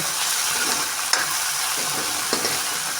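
Onions, tomatoes, green chillies and ginger masala fry in a pan with a continuous close sizzle, broken by a few sharp spatula clinks and scrapes.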